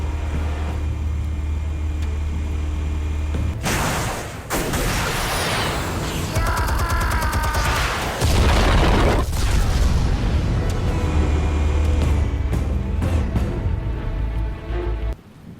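Explosives detonate in a Batman video game, with loud broadband booms and a long rumbling blast with debris around the middle, set against a constant low game score.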